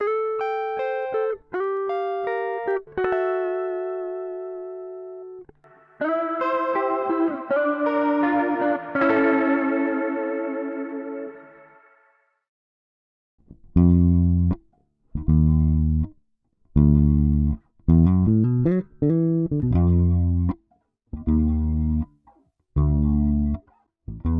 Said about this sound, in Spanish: grabé una guitarra y un bajo y no les puse ningún plugin excepto el retrocolor